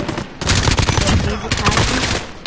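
A commando AK rifle in the game Call of Duty fires in rapid automatic bursts, loud and close, with dense, fast-repeating shots and a brief gap early on.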